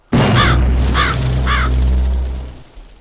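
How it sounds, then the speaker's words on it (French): Birds cawing in the Roblox horror game Mulberry County, three crow-like caws evenly spaced over a loud low ambient drone that fades near the end. "Des oiseaux stupides."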